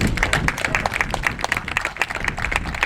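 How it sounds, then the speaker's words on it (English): A crowd claps steadily at an outdoor groundbreaking ceremony for the Rio Dell, California water system rebuild, honoring the Humboldt County sheriff; dense, continuous applause holds at an even level throughout. "Give him a round of applause, please."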